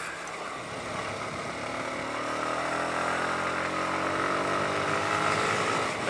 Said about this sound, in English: that's just engine noise